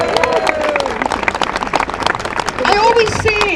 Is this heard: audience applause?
yes